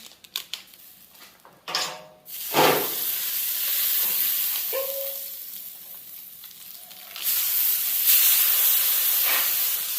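Venison frying on a Blackstone griddle for grilled cheese burritos, a steady sizzle and hiss after a few scraping and tapping sounds, rising louder toward the end with no talking.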